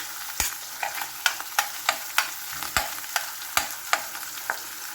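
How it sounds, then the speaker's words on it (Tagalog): Onion and garlic are sautéed in a pan, a spatula scraping in a quick regular rhythm, roughly twice a second, over a continuous close sizzle. "So, dito natin igigisa ang ating sibuyas at bawang."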